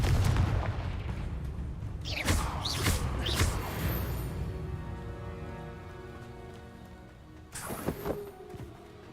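Confringo spell explosions in the Hogwarts Legacy video game, several sharp blasts and booms over a dense rumbling game backdrop, followed by a later burst of impacts near the end.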